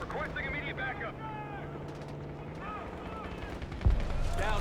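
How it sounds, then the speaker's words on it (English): Gunfire in the video game Call of Duty Black Ops 6 crackles in short bursts beneath a steady engine drone and radio-style voices, ending with a louder, heavier blast near the close. "We've got gunfire to the right."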